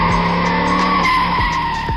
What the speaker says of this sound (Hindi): अगले ही पल अचानक आगे मोड़ पर सामने ऋषभ की बाइक अचानक फिसली।